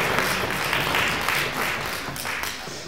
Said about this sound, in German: Auch gleich kleiner Applaus für Herrn Klebe